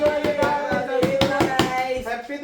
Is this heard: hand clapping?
yes